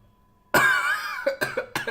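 A person coughs after sipping coffee: one sudden harsh burst, then several shorter rasping coughs in quick succession, close to the microphone.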